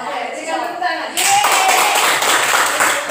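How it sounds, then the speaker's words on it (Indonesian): A classroom audience breaks into applause, a dense wash of many hands clapping that starts abruptly partway through and continues steadily to the end, with faint voices underneath. "berikan tepuk tangan"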